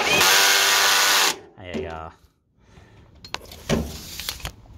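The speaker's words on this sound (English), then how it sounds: "Kind of like using this clutch drill. My impact." An impact driver whirs loudly and steadily for over a second, then cuts off; a short burst and scattered clanks follow in a workshop while working on a Murray mower deck.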